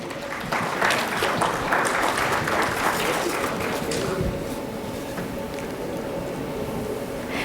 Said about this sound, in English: A round of applause for Dr. Nair